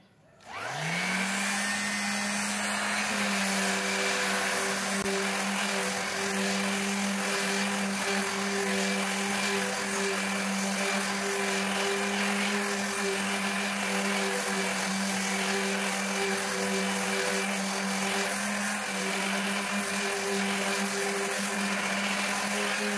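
Hasston ART3135-001 electric sander spins up and holds a steady, loud, whirring motor drone with a constant hum, running alone and unbroken for the whole stretch.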